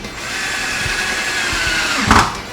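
A power drill drives pocket-hole screws into wood while a modern farmhouse platform bed is built, giving off a steady close-up whine with a short, louder burst as the screw seats near the end.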